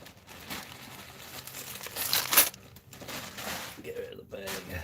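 A plastic bag holding coins crinkles and rustles up close, with a sharper crackling burst in the middle as it is pulled away, amid quiet background noise.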